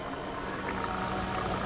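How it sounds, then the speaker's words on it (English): A loud, steady rushing hiss of HHO gas flowing through a hose, constant and close, with no talking. "You can see the gas coming in here. It's very loud."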